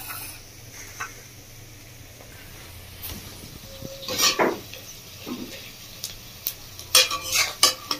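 Chopped onions sizzle and fry in a pan, with bursts of stirring and utensil scrapes growing busier toward the end, no voices over the cooking.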